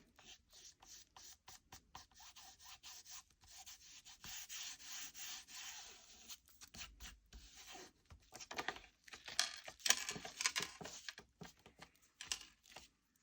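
Glued end paper being smoothed by hand onto a little golden book, giving soft, close rubbing and brushing strokes in irregular bursts that grow slightly louder toward the end, with no voices.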